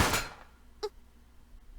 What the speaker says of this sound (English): Kurokawa pressed against the trigger, followed by the roar of a gunshot.